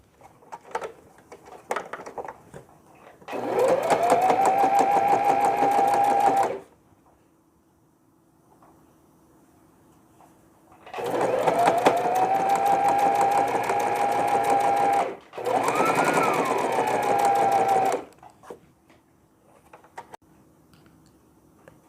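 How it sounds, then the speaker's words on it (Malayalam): An electric sewing machine stitches a baby pillow cover in two long bursts separated by pauses, the second briefly stopping and restarting, its steady mechanical whir close and loud with no talking. "കവറാണ് സ്റ്റിച്ച് ചെയ്യുന്നത് ഇപ്പം"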